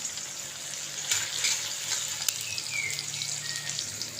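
Tomato, capsicum and other vegetables fry in a pan with a steady, close sizzling hiss and occasional light clinks of stirring throughout. No one speaks.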